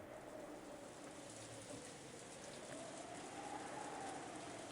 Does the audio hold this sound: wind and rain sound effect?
yes